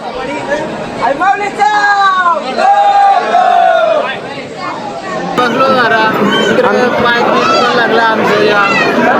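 A large, dense crowd of pilgrims at the Ekveera Devi temple, many voices chanting and shouting together in rising and falling calls, loud and close, with chatter mixed in.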